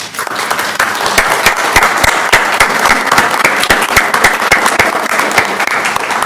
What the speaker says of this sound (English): want to give you a round of applause to all of you